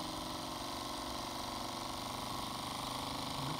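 A Microcosm M29 model steam engine with a vertical boiler, recently repaired after shipping damage, runs steadily with a fast, even, continuous chuffing and mechanical whir, close and alone.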